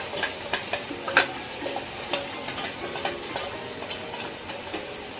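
Tomatoes and ground masala paste sauté in a pan for chicken biryani, with a steady close sizzle and repeated scraping stirs and light utensil clinks throughout.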